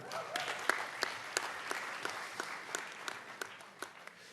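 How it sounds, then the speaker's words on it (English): An audience at a UN youth summit breaks into applause, a steady wash of many hands clapping at moderate, slightly distant volume, with a few sharper individual claps standing out. "you need to give yourself a round of applause"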